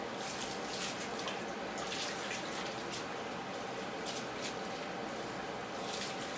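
Water runs steadily to rinse out a sewer drain line after clearing a clog, a constant, fairly loud hiss and splash close by, with no pauses and no talk.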